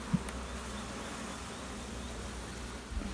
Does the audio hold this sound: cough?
no